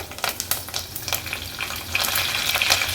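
Mustard seeds, cumin and curry leaves hit about two tablespoons of hot oil for a sambar tempering, giving a steady, close crackling sizzle that grows a little denser toward the end, with no talking.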